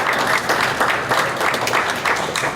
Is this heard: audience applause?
yes